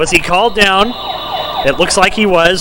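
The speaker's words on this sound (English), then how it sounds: "that's the siren for the end of the quarter" A siren marks the end of a quarter at an NWFL football game between the TBolts and the PC Bengals, a steady wailing tone sounding under the commentators' talk.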